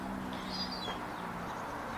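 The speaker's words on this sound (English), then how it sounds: "she's shooing off all the other gulls to say this is my territory" Seagulls calling, a young gull shooing other gulls away from her territory: a faint, thin cry rises briefly above steady background noise.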